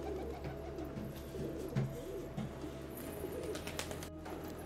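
Domestic Satinette pigeons cooing in soft, repeated low throaty phrases, fairly close but quiet, amid a faint background hum and a few light rustles, with no talking.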